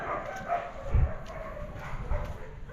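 A stray dog gives a few faint, short barks and yips at a distance, separated by brief gaps over low background noise.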